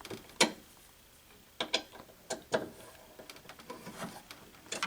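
Metal bracket for a pinball machine mirror blade being pushed back into place and tightened, a run of small scattered clicks, ticks and ratcheting scrapes at close range with no talking.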